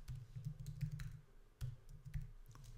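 Keystrokes on a computer keyboard, a quick run of close clicks, a short pause, then a few more taps, fairly quiet over low room hum.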